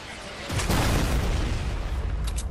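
A rocket explodes in a Fortnite Battle Royale match, a loud, deep booming blast that hits suddenly and rumbles on for about two seconds.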